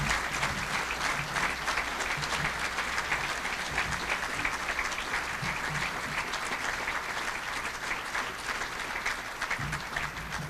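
Sustained audience applause fills a banquet hall at an annual dinner as the Salvation Army Boys and Girls Club Youth of the Year is welcomed to the stage. The clapping is dense and steady for about ten seconds, with no talking over it.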